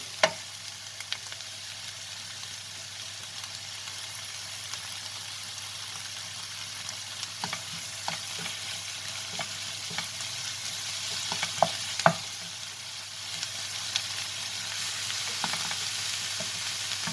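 Chopped tomatoes go into a pan of fish and peppers for a milk-sauce fish stew, setting off a long, steady sizzle punctuated by scattered sharp pops and utensil taps, with no talking.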